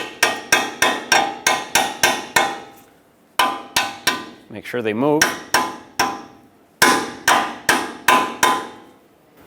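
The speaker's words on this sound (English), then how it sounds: "With a small hammer, tap these free." A small hammer raps steel tie rod sleeve clamps on a Ford E-350 front end in quick bursts of sharp metallic taps, with pauses and a short squeaky scraping between runs; a voice speaks briefly.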